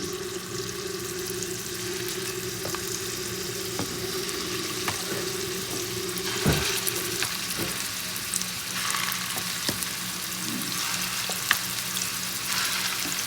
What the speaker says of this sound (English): now it's time to place our meatballs in the pan